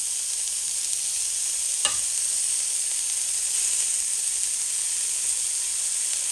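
Meat sizzling on a hot iron griddle with no oil, a steady close frying hiss with one brief crackle, no voices.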